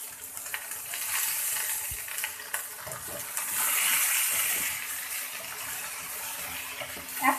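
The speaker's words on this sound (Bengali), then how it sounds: "আমি ফুলকপি এবং আলু সুন্দর করে একসঙ্গে একটু ভেজে নেব" Cauliflower and potatoes fry together in a pan, with salt added, making a continuous close sizzle and hiss. Occasional stirring scrapes and soft knocks break through the sizzle, and no one speaks.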